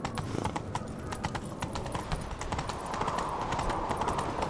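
Rapid hoofbeats of a galloping horse in The Witcher 3: Wild Hunt pound steadily throughout, close and loud, with a rushing rumble beneath them.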